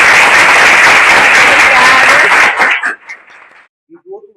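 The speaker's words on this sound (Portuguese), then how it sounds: "Uma salva de palmas" Loud, dense studio audience applause for a guest on a talk show fills the first two and a half seconds, then cuts off sharply to quiet, with only a few faint trailing sounds afterward.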